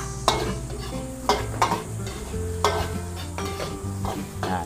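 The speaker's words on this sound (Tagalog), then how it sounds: "Luluto-lutoy lang po natin yung ating panggisa." Chopped onions sautéing for a Filipino ginisa base, stirred in a pan with a steady close sizzle and repeated sharp scraping clinks of a utensil against the pan, over a sustained musical tone in the background.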